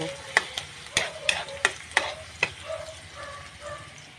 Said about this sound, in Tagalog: Ayan po, magigisa na si Ate May. Gisa natin ito.